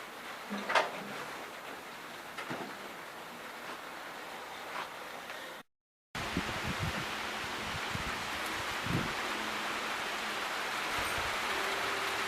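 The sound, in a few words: rain and wind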